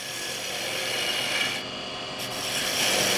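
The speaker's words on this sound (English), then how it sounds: "Spindle gouge." A spindle gouge cuts a spinning wood workpiece on a lathe, giving a steady, close scraping and rasping hiss that holds through the whole stretch with small dips in intensity.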